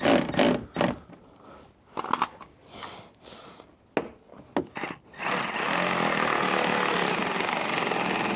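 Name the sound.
power tool driving screws into BMW F36 rear diffuser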